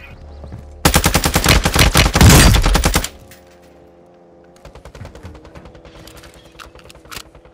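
A sustained, loud automatic burst rattles out in Call of Duty: Warzone on the Vondel map. It fades into quieter game ambience with scattered faint clicks and distant shots.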